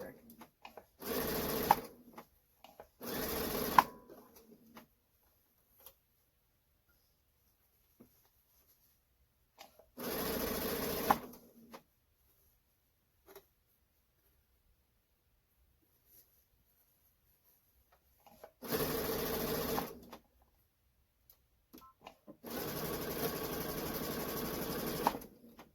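A sewing machine stitching batik fabric pieces with a narrow seam allowance, whirring in several separate bursts of a second to a few seconds, with quiet gaps between runs.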